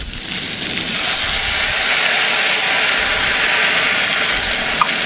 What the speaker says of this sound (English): add in my liquid